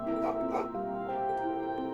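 In the video game Trails into Reverie, a big dog named Wadoa gives a couple of short yips and barks over steady background music.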